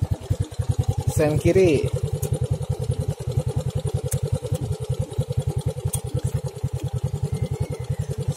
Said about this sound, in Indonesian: Tuh, knalpotnya itu.